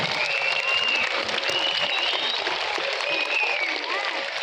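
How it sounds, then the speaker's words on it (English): Sustained applause from a school audience at an awards ceremony for cluster-level winners and runners-up, dense steady clapping throughout with a faint voice briefly audible underneath. "Give them a big round of applause once again for all the winners."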